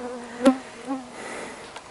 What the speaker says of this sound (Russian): Летают комары